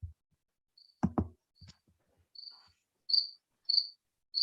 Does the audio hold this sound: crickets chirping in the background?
yes